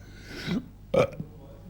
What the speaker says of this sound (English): Big belch, beg your pardon.